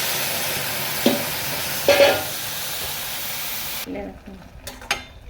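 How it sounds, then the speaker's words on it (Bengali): Pumpkin green stalks, potato and masoor lentils hit a hot pan with a couple of brief splashing bursts over a steady hiss, then the sizzle abruptly drops to a low, uneven bubbling. "এবার আমি এই কুমড়ো শাকের ডাঁটা, আলু ডালটা এর মধ্যে আমি ঢেলে দেবো।"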